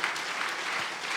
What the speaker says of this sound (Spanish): Dele ese aplauso fuerte al Señor en esta mañana.